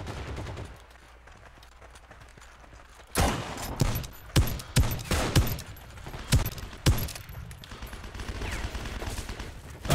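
Gunfire in the online shooter Heroes & Generals, with rapid bursts of shots and sharp cracks after a quieter opening, close and loud, with scattered single shots trailing off.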